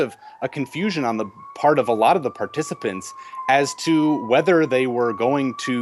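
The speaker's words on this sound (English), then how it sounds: "I apologize for the siren, that sounds like it's approaching" A steady siren tone drones beneath continuous male speech, holding a nearly constant pitch and slowly swelling as it draws nearer.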